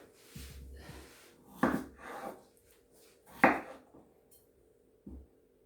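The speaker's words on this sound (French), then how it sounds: "j'ai épluché mes pommes de terre. Je vais les découper pour les faire cuire." Peeled potatoes are cut into quarters with a knife on a board, a few soft, separate thuds and scrapes spaced apart in a quiet kitchen.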